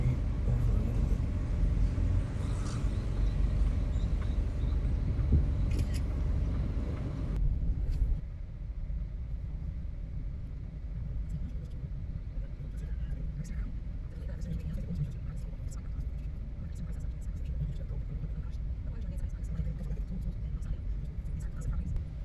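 Steady low rumble of a car driving through El Valle de Anton toward a corner, engine and road noise continuous and close, easing slightly partway through, with faint voices underneath.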